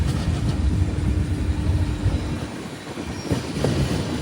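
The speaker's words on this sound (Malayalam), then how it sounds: "ഇവിടെ രാത്രിക്ക് പുറപ്പെടേണ്ട കൊങ്കൺ കന്യ എക്സ്പ്രസ് ആണ് ഈ കാണുന്നത്, മുംബൈ CSMTയിലേക്ക്." The Konkan Kanya Express bound for Mumbai CSMT sits at a station near an automatic coach washing point, with a steady low rumble and rolling rail noise, loud and continuous with no voices.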